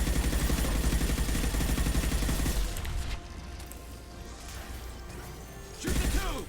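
Heavy Mass Effect 2 gunfire during the Suicide Mission, with rapid sustained automatic bursts for the first few seconds, then a sparser stretch of scattered shots and a final loud burst near the end.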